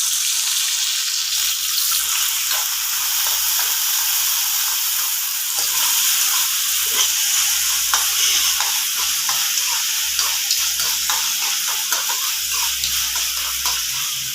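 Green chillies and tomato added to a tempering of spices fry in hot oil with a steady, close sizzle, punctuated by repeated scraping stirs of a spoon against the pan, with no talk.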